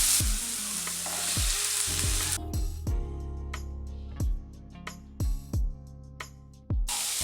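A ground ginger, garlic and green chilli paste hits hot oil for egg biryani, a loud hissing sizzle that settles into softer frying, punctuated by repeated sharp taps and scrapes of a stirring utensil.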